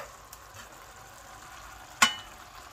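Minced meat for spaghetti bolognese fries in a pot, a soft steady sizzle with faint scraping from stirring and one sharp clink of a utensil against the pot near the end.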